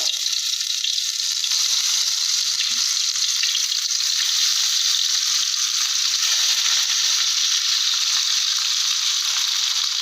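Vegetables fry in hot mustard oil in a wok, giving a steady, loud, even sizzle and hiss with faint crackles throughout and no voices.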